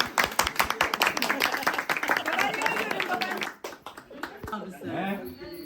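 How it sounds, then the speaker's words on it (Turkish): Family members clap hands during a holiday birthday gathering at home, close rhythmic claps for about three seconds with voices chattering and laughing over and after them. "Alkış alkış. Alkış alkış."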